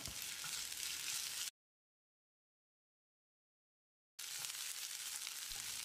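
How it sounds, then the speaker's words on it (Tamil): Ginger garlic paste sizzles in hot oil with softened onions for cauliflower sukka, a steady broadband frying hiss that cuts out midway and then resumes just as loud, with no voices. "1 டேபிள் ஸ்பூன் இஞ்சி பூண்டு விழுது சேர்த்து பச்சை வாசனை போகிற அளவுக்கு 1 நிமிஷம் ஃப்ரை"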